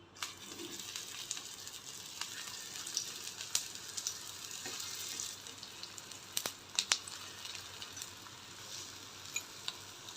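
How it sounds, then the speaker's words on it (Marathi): Patties shallow-frying in a little oil on an iron tava over low gas, with a steady close sizzle and crackle and a few sharp spatter pops or utensil clicks, with no talking. "आता फक्त सेलो फ्राय करायचा थोडं तेल टाकून."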